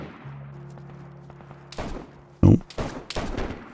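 Gunfire in the video game DayZ: a few sharp, loud shots burst out in the second half after a quieter stretch, spaced irregularly, with one especially strong crack near the middle.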